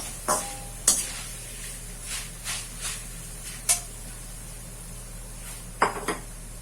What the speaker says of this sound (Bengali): এবার চিড়েটা ভেজে অল্প অল্প করে চিড়ে ভাজতে হবে